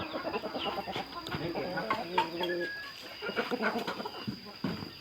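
Chickens cluck and chatter close by in a busy, steady stream, with scattered pecking and a faint voice now and then.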